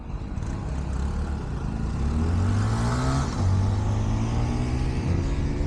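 A CFMoto motorcycle revving nearby in a parking area, its engine note rising and falling in a steady droning roar with no talk over it.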